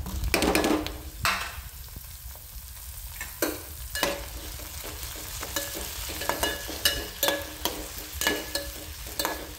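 Tomato added to fried onion in a pan, a soft continuous sizzle with intermittent stirring scrapes and knocks, close but fairly quiet, no talking.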